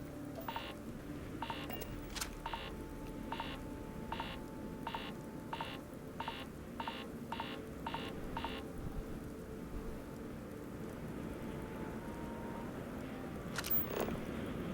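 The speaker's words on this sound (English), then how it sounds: "What is that beeping?" In the Starfield video game, a regular series of short electronic beeps repeats about a dozen times over a low ambient hum, then stops, leaving the quiet background.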